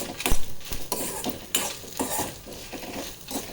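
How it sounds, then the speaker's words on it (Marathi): Red chillies and lentils roasting in a pan for a South Indian pineapple gojju masala, giving a close, busy scraping and stirring with light sizzle and a few sharper clatters of a utensil against the pan. "ह्याच्यामध्ये आपल्याला त्या लाल मिरच्या ज्या आपण काढल्या होत्या 4, त्या छान तोडून घालायच्यात, भाजायच्यात"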